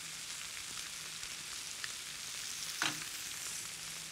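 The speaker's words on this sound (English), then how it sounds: "we're gonna put it on the grill" Steak with a little olive oil sizzles on a grill, a steady close crackling hiss with one brief louder pop partway through.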